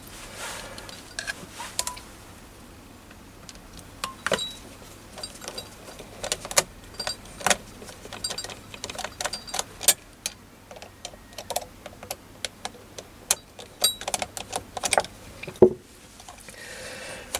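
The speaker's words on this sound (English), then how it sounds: "you can actually undo the screws to take the housings out" Small metallic ticks, clicks and scrapes come from a Phillips screwdriver undoing the two long screws that hold the housing of a Machifit 100V motor, irregular and close-up against a quiet background.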